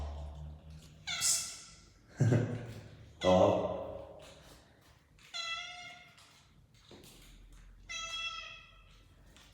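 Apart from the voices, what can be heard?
cat meowing in a staircase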